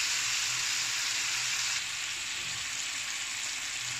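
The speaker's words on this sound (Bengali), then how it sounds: "দিয়ে দিলাম পরিমাণ মতো টমেটো কুচি, একটু সময় নিয়ে ভেজে নেব।" Chopped tomatoes fry in a pan for a prawn malai curry masala, giving a dense, even, hissing sizzle that holds steady and close, easing slightly partway through.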